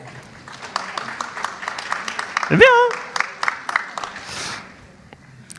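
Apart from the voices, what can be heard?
audience applause at a conference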